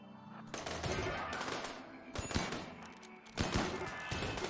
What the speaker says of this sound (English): Now you can open fire.